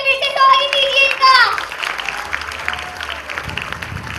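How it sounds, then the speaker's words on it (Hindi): An audience at the launch event for the She's Ambassador program breaks into applause: a brief voice, then steady, full crowd clapping that carries on and gradually thins. "जोरदार तालियों से फिर से स्वागत कीजिए इनका।"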